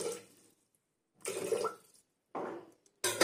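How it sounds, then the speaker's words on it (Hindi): Water pours into a pressure cooker holding chickpeas in three separate splashing bursts with short silences between them, as if glass after glass is tipped in. The pouring is close and there is no talking. "इसको फ्रेंड 2 से 3 गिलास पानी दे देते हैं उबलने के लिए"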